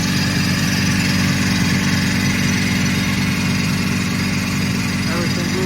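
A KAESER screw compressor runs with a loud, steady low mechanical hum and even vibration, close and unbroken throughout.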